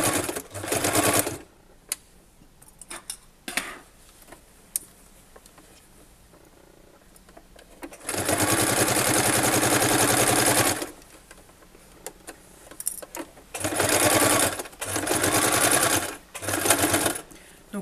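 Sewing machine sewing a straight-stitch seam through fabric layers for a washable wipes basket, running in several loud bursts of varying length separated by pauses with small handling clicks.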